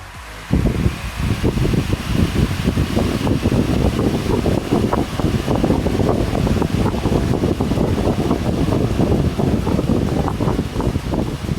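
Vintage 1950s IEW Tara 16-inch DC table fan running alongside a modern AC fan, a loud, steady whooshing blade noise with rapid fluttering buffets, constant throughout.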